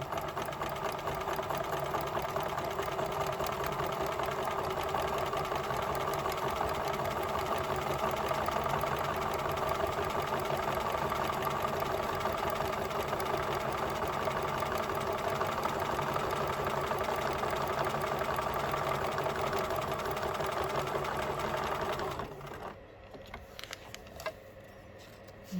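A sewing machine stitches steadily along a foundation paper piecing line, its fast, even mechanical patter running close and continuous before stopping abruptly near the end, followed by a few faint handling clicks.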